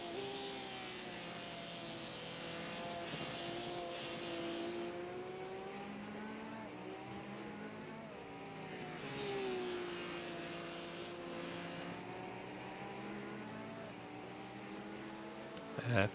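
Race car engine from another car following close behind in a 24 Hours of Spa endurance racing game, a steady droning whine with harmonics rising and falling through corners, continuous and fairly loud for the whole stretch.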